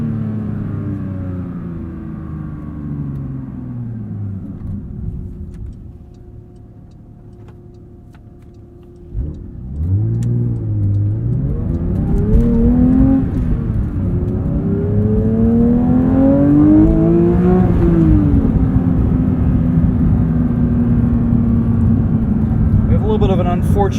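Manual 2023 Porsche 911 GT3 engine revving toward its red line, rising in pitch after a brief dip, loud and sustained from inside the car as it accelerates.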